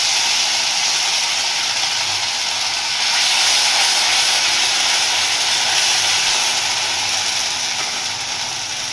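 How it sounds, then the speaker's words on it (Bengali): Black cumin and ginger-chili-garlic paste hit hot oil, producing a loud, continuous broadband hiss that swells slightly partway through and holds steady. No voices are heard. "এবার এই তেলের মধ্যে দিয়ে দিচ্ছি কালো জিরা, দিয়ে দিচ্ছি আদা লঙ্কা রসুন বাটা"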